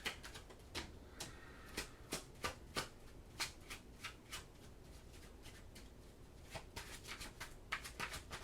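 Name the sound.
shuffling tarot cards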